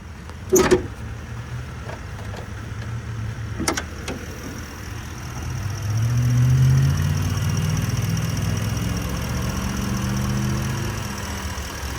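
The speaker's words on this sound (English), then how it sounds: "the truck is currently running, as you guys can tell, nice and smooth running engine" A 2013 Ford F-150 SVT Raptor V8 engine idles steadily and smoothly with the hood open, with a couple of sharp clicks early on and the low rumble swelling slightly partway through.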